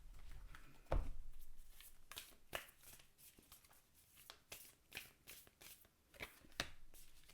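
Oracle cards being shuffled by hand, a close and steady riffling patter with a sharper knock near the start and brisk bursts of flicking cards, mostly heard on their own without talk.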